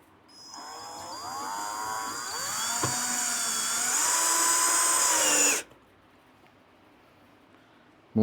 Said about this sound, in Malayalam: മൂന്ന് സ്ക്രൂ മുറുകി.